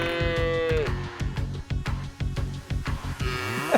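Cartoonish cow moos from the Cows in Space game, a loud rapid series of repeated mooing calls in a quick rhythm, alone without talk.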